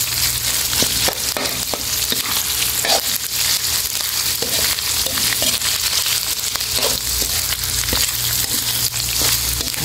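Pork offal for laab stir-fries in a hot pan, a dense continuous sizzle with frequent scraping and clacking from the spatula at a quick, uneven rhythm.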